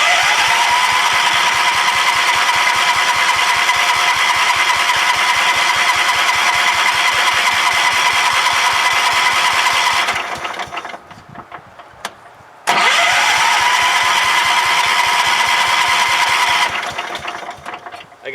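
A Kohler small engine running low on gas cranks and fires, runs loud and steady for about ten seconds, dies out, then restarts with a sharp catch and runs again before fading.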